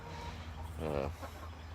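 Old farmyard hens clucking close by in a short burst, set against a steady low background hum.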